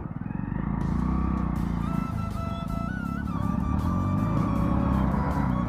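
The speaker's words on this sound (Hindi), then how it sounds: "ऊपर चढ़ाएगा ये बाइक।" A motorbike climbs uphill on an off-road mountain track, its engine droning and wavering in pitch as it strains, loud and fairly close throughout.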